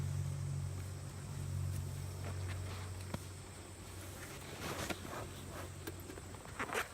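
Honey bees hum around a beekeeper working hives with a smoker, a low continuous droning buzz in the background with scattered ticks and rustles nearby, fairly faint and without talk.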